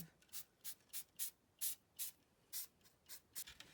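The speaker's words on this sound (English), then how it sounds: "just give a little black spritz on the super black section" Black spray paint spritzed onto a custom-painted drum comes as about a dozen quick, short hissing bursts in an even rhythm, close and soft, with no talk.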